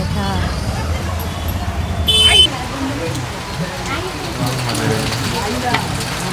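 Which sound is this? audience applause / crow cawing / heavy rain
heavy rain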